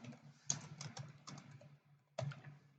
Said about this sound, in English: So I can come into this place and start typing whatever I want.